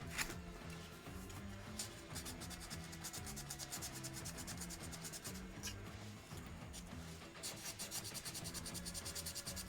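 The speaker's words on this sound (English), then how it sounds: "Sanding inside the thumb" Hand sanding inside the thumb and tip of a wooden carving: a steady, close, rapid back-and-forth rasp of abrasive on wood, continuous and even throughout.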